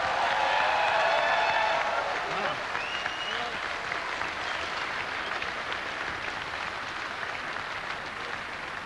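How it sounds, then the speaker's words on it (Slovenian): A stage audience breaks into loud, hearty applause to wish a performer a happy birthday at a Slovenian folk entertainment show, a thick continuous clapping that follows a brief moment of tonal voice or music. "zdaj le z enim bučnim aplavzom mu bomo voščili"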